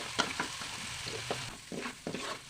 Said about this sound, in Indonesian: Kemudian kita akan tumis bumbu halus untuk memasak isian tahu isinya. Kita tumis sampai harum dan matang.